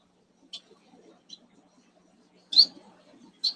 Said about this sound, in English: And all the baby birds.